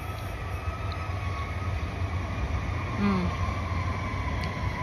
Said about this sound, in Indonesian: Tuh datang kereta belakangku.